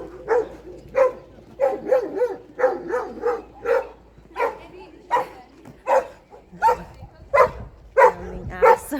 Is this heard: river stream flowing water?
no